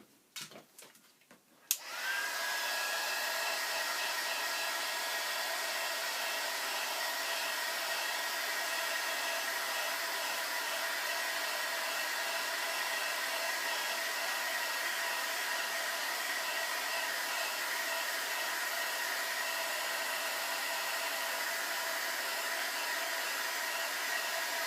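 A hair dryer blows steadily to dry ink and paint inside a mini envelope book, switching on after a few brief clicks and then running as a loud, constant whooshing roar with a faint whine for the rest of the span.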